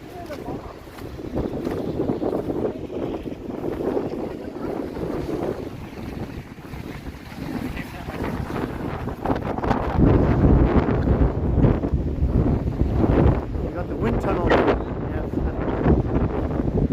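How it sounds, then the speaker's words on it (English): Strong wind gusting between tall condo towers on Bay Street in downtown Toronto on an evening after snow, sleet and freezing rain, a steady roaring buffet on the microphone that swells louder in the second half. "Bay Street Condo Canyon Wind Tunnel here."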